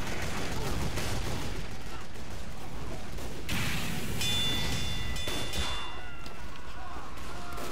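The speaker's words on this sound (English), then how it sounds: "Stop shooting rockets at him." Team Fortress 2 rockets and gunfire in a chaotic match, a steady wash of explosive bursts and shots layered over continuous game noise, with voices talking throughout.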